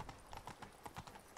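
Horse hooves clip-clop at a steady walking rhythm in The Witcher 3: Blood and Wine, with evenly spaced, moderately loud and close footfalls that continue through the whole stretch.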